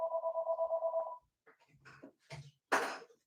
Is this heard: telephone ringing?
yes